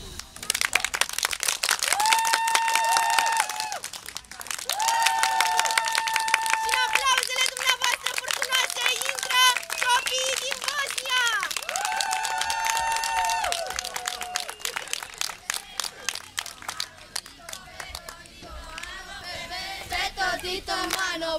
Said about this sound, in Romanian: vreau ca aplauzele dumneavoastră să fie furtunoase